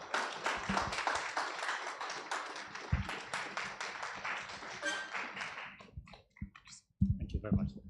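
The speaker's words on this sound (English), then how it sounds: "Let's give him another round of applause." Audience applause after a speaker's closing thanks at a live business television event, dense steady clapping from many hands that thins and breaks into scattered claps near the end, with voices mixed in.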